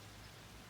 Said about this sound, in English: as the rain comes down